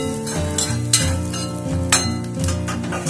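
Orange peel sautéing in a pan, with a continuous close sizzle and a few soft scrapes and clinks of a spatula stirring at intervals.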